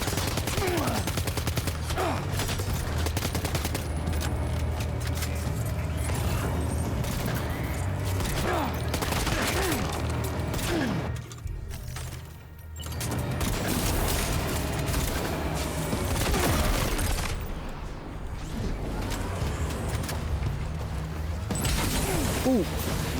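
Gunfire in the video game Death Stranding 2, with dense, continuous bursts of shots and booms filling the scene almost nonstop over about twenty seconds, pausing briefly midway, with a player's voice talking at times.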